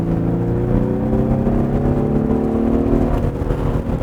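A Genesis G80 with a 3.5-litre gasoline Lambda V6 accelerating hard under full throttle, a steady loud engine drone with rising tones heard from the cabin, no talking.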